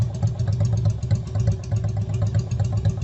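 A Yamaha Virago 250 V-twin motorcycle engine idles steadily nearby, with a regular low thumping pulse and light mechanical clatter. The bike is under a compression check for a suspected fault, and no voices are heard.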